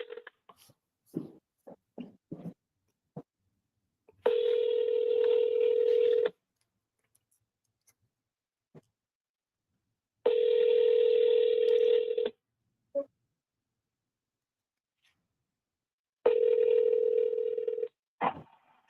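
Telephone ringback tones while placing calls, three long steady buzzing bursts of about two seconds separated by silence, preceded by quick clicks and taps of dialing.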